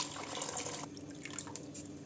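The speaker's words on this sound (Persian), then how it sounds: "لوبیاها رو می‌ریزیم درون قابلمه، آب رو اضافه می‌کنیم" Water streams into a pot of beans for ash reshteh, a steady close splashing pour that thins toward a few trickles and drips, with no talk.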